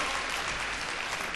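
Crowd applauding at a badminton women's singles final at the Irish Open, a dense, even wash of clapping heard from the stands, steady throughout without speech.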